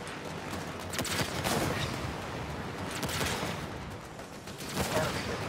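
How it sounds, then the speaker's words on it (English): A Phoenix missile launch in the Halo Wars strategy game brings a dense, rumbling barrage of explosions and mechanical bursts, sustained and moderately loud, with swelling impacts near the start and end. "Launching Phoenix missile"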